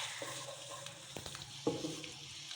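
A spoonful of ginger-garlic paste sizzles softly as it fries in a pan for cumin rice. The frying hiss is low and steady, with a few quiet stirring knocks.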